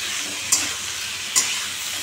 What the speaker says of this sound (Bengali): এবার কষাচ্ছি, কষিয়ে এবার জল দিয়ে ভালো করে কষিয়ে দেবো